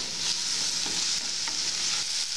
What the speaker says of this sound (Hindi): 30 सेकंड के लिए इसको इस तरह चलाएंगे